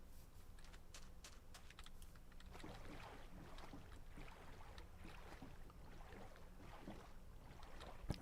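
Soft paddling and water sloshing from a small boat being rowed in Minecraft, a steady faint wash with no voices.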